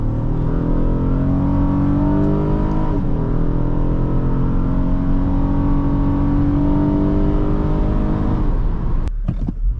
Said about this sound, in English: Let's come out here and let's punch it.